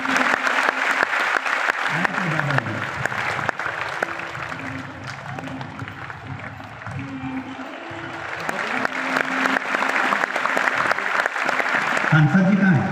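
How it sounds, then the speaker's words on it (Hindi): Audience at a Shiv Mahapuran katha gathering in Parbhani claps in sustained, dense applause, loud and continuous, while a voice speaks over it through a sound system. "बहुत बहुत जोरदार ताली बजाओ उस बच्चों के लिए"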